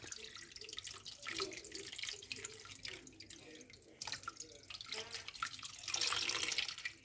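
Water pouring into a pot of sweet corn with salt before boiling, a steady faint splashing and trickling stream that runs throughout, with no talk.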